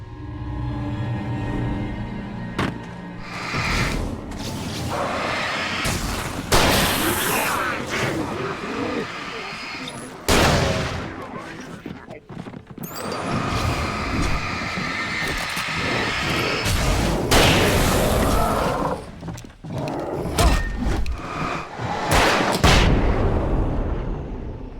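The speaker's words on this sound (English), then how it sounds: "I'm so glad I had the flashbang right then" Flashbang and combat in Alan Wake Remastered: repeated sharp, loud bursts and booming blasts break through a noisy, rumbling background, spaced irregularly across the stretch with brief quieter gaps between them.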